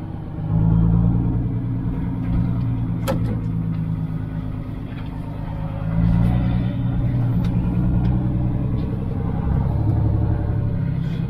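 A tall vehicle, about 3.5 metres high, drives along a narrow track, producing a steady low engine rumble with road noise throughout. The drone rises slightly in a couple of places, and occasional faint knocks sound over it.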